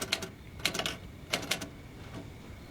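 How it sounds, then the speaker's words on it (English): A manual typewriter in a post-war home drama clacks in short irregular bursts of keystrokes separated by pauses, faint and close, with no talking over it. "Going back to writing, reunited with his typewriter that he couldn't bring with him."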